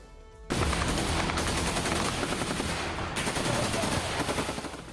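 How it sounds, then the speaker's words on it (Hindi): The Israeli army fires weapons in Gaza as crowds head back toward their homes, producing a sudden, sustained, loud volley of rapid automatic gunfire that starts abruptly and continues densely to the end. "इजराइल की सेना ने उन्हें रोकने के लिए फायरिंग की"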